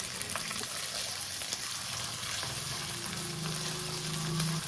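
Curry leaves and fresh green peas sizzle and fry steadily in hot tempering oil for pongal, a continuous close crackle with light stirring and no talk.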